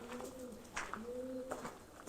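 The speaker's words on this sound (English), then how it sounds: "What is that pigeon doing?" A pigeon coos on a wall outdoors, a few soft low rolling calls repeated in a gentle rhythm, faint and a little distant.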